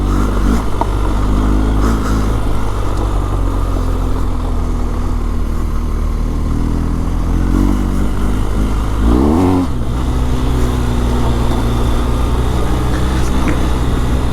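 A BMW R1250GS Adventure motorcycle rides off-road on gravel, its engine droning loudly and continuously up close under wind rush, with brief swells in revs and no talk.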